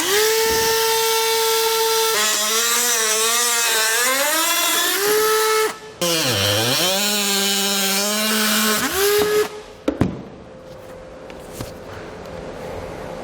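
A power cutting tool slices through a plastic trim panel on a 2015 Toyota Highlander, a loud, close whining drone that bogs down and rises again as it cuts, then briefly stops and ends in scattered clatter.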